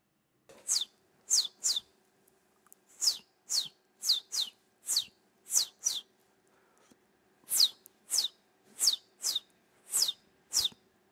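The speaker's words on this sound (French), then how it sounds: "Je crois que c'est l'oiseau de printemps." A series of sharp, high descending bird chirps repeating in a steady rhythm, in short bursts with a brief pause midway, clear against a quiet background.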